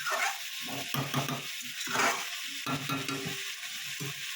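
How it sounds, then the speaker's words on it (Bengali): Vegetables and tomato for a panchmisali sabji are stirred in a frying pan, producing a close, steady sizzle with rhythmic scraping strokes of a spoon against the pan. "আমি এটা সিম করে করে কষবো।"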